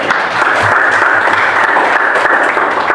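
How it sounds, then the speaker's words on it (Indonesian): Applause fills a classroom, a steady wash of many hands clapping together throughout, close and fairly loud with no talk over it. "Beri tepuk tangan untuk Mas Billy dan Mbak Ani."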